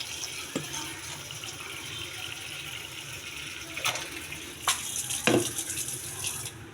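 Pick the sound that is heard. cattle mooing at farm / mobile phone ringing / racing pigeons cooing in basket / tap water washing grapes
tap water washing grapes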